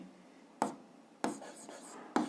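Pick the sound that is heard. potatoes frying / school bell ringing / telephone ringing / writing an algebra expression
writing an algebra expression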